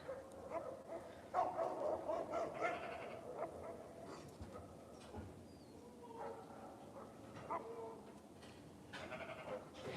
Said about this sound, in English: there's the other dogs are all chiming in now.